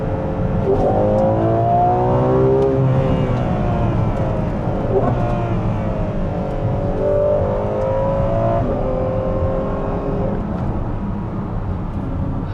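A Ferrari 12Cilindri's V12 engine roars and revs continuously, its pitch climbing and falling with gear shifts, loud and close throughout.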